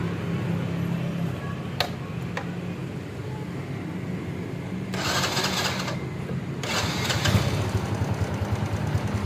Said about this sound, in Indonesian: Coba kita nyalain mesinnya ya.